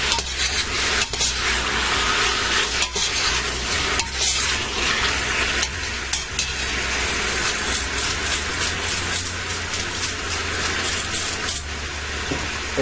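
Beef cubes sizzle and fry steadily in a pot for beef bourguignon, a loud, continuous crackling hiss with occasional scrapes of stirring, no voices over it.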